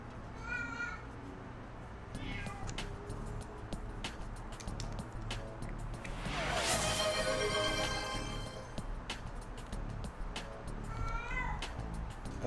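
Freya, a pet cat, meows loudly indoors in a run of repeated calls, several sharp meows at the start and end and a long drawn-out caterwaul in the middle.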